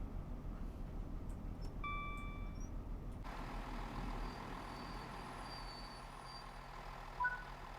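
A train braking in Train Sim World 4 on the Great Western Express line, with a steady low rumble, a few chiming tones, then a hissing brake release around three seconds that stays steady; the whole passage is faint.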